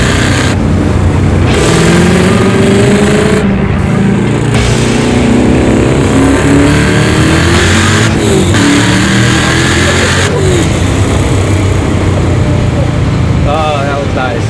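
A supercharged 900hp LS7 in a custom 1966 Chevy roars loud and close through its exhaust, rising and falling in sustained revs, with people's voices mixed in.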